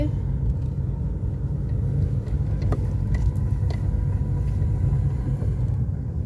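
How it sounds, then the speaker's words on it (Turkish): A car rolls slowly along a very narrow village road among houses in Gödence, Seferihisar, its steady low engine rumble and tyre noise continuous and close throughout. "son derece dar bir yoldan gidiyoruz arkadaşlar"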